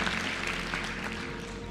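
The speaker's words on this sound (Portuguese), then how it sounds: "Uma salva de palmas pra ele" An audience breaks into applause for a person who asked a question, a thick, continuous wash of clapping held at an even level under a low background hum.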